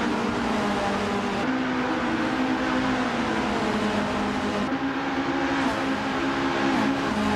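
Race cars drive during a race, engines droning and revving in a steady loud blend with shifting pitch and a couple of abrupt gear or passing changes, no voices.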